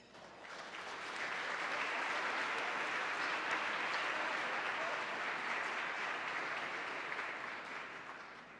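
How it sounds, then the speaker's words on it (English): Audience at a civic awards event gives a warm round of applause, steady dense clapping that swells in, holds loud and full for several seconds, then tapers off. "Please join me in a warm round of applause for all of them."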